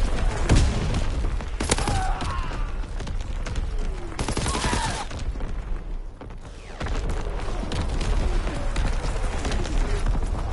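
Enemy artillery barrage in Call of Duty WW2 multiplayer: dense, continuous rumbling blasts and gunfire-like bursts fill the whole stretch, loud and close, with short surges of explosions over a constant battle roar.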